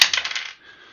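A pair of Vegas dice rolling on a tabletop during a tabletop role-playing game, a quick run of bright clattering taps over half a second, close and crisp, settling into silence.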